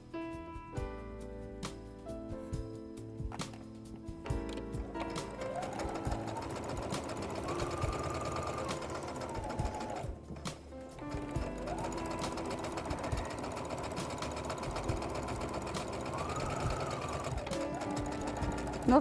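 An SG-9000 sewing machine stitches a fabric waistband, its needle chattering in a fast steady rhythm close to the microphone, with a short pause partway through.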